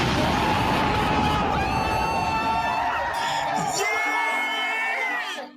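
A crowd cheering, whooping and yelling loudly around a race, a sustained roar of excited voices that drops away abruptly at the end.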